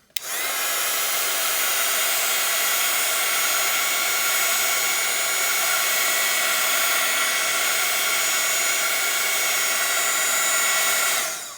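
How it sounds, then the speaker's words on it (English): A loud, steady whirring blast of an embossing heat tool heat-setting embossing powder close by, starting abruptly and holding an even hum throughout. "we're going to heat set that embossing powder with our heat tool"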